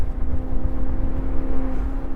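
Maserati GranTurismo Convertible engine, rated at 454 horsepower, hums steadily at a low idle-like drone for a couple of seconds, moderately loud and alone, with no talking over it.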